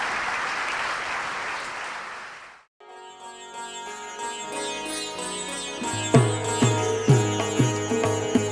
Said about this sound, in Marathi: Give a big clap to Jesus.